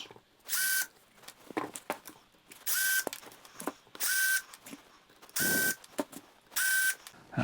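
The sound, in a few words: screws being removed from a resin sculpture mold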